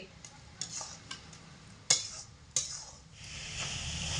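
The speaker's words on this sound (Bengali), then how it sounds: "ভেজে রাখা কিশমিশ আর কাজু কিশমিশ আর কাজু দিয়ে আবারও নাড়তে থাকব" Grated carrots stirred in a pan with fried raisins and cashews for carrot laddu, producing quiet scrapes and a few sharp utensil clinks over a soft sizzle that swells toward the end.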